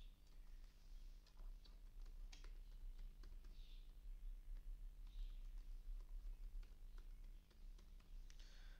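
Someone types a password on a computer keyboard, with a steady run of light key clicks and taps at close range over a quiet hum, and no voices.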